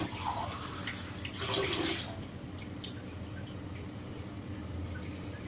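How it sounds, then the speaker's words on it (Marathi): A glass of water is poured into a cooking pot while sambar is being made, giving a short splashing gush over a low steady background hum, with no talking. "ये एक ग्लास पानी टाकून घ्या"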